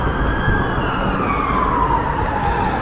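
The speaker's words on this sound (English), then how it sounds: "we've got a police car coming" A police siren wails loudly and continuously, its pitch sweeping slowly as the vehicle passes nearby over traffic noise.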